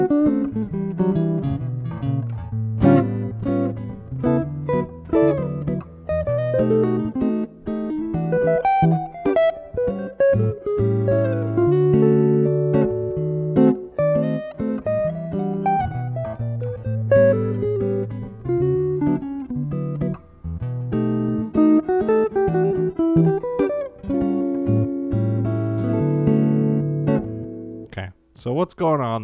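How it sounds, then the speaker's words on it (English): A jazz line improvised inside the chord changes of a common jazz progression, with flowing single notes over a moving bass and chords, continuous and close-miked, trailing off at the very end with no voices. "So what you just heard was someone playing inside the changes."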